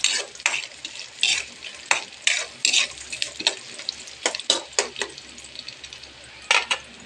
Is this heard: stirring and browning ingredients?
yes